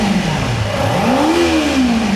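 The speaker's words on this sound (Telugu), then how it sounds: "చాలా clean, crisp and refined engine with throttle" A 2025 Kawasaki Ninja 300 engine revved on the throttle: a loud, close engine drone that dips, then swells in pitch to a peak and eases back, with no talk.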